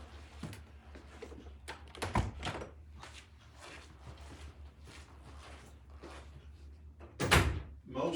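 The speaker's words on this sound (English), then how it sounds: "let me close these doors" Doors are being closed in a room, with several muffled thuds and a louder closing thunk near the end, over steady low room noise, with no voice.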